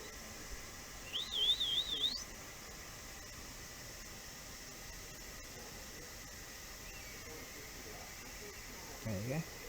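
A hawk's thin, high whistling call with a quick up-and-down wobble rises once in the distance over steady outdoor hiss, and a voice murmurs briefly at the end.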